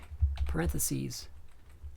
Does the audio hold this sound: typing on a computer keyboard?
yes